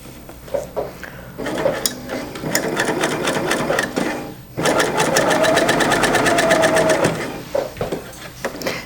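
A Bernina L890 coverlock machine running a 3-thread cover stitch, loud rapid mechanical stitching in two bursts with a short pause between, plus a few handling clicks around them.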